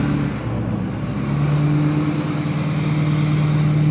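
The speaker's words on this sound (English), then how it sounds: "You're gonna tear a tree up with your truck." Truck engine idling and creeping across a soft, squishy yard, a steady close rumble with droning tones that rise slightly in pitch as it moves.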